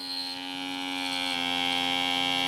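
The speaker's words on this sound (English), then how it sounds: "this handheld vacuum sealer just goes right on top of there. You just hold it on top of there, press down, press the button," A handheld vacuum sealer drones steadily on a freeze dryer jar lid, a close electric hum with a bright whine that shifts pitch slightly partway through, alone with no talking.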